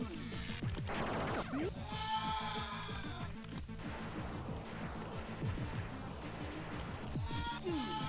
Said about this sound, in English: That's what I get for firing my weapon.